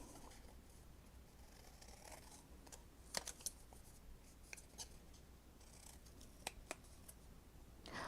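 Scissors cut craft paper from a story kit, faint snips and crisp paper rustles scattered over a quiet background, with a few sharper isolated clicks and no talking.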